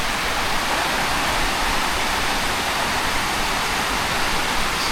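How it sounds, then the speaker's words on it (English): Water rushes over one of the big weirs at Kelham Island in Sheffield, a steady, dense roar of falling water that stays constant and fills the whole stretch, with no voices. "sparkling water. One of the big weirs down here."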